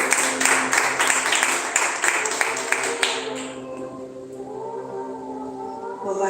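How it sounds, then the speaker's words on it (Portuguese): Church congregation clapping and cheering loudly for about three seconds in a burst of dense applause, which then fades into sustained organ-like tones and quiet voices. "Aplauda Jesus bem forte"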